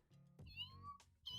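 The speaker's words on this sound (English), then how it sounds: "look at this. There's a cat." A cat in the video game No More Heroes 2 meows three times, each call rising and falling, clear and fairly close with quiet game sound between the calls.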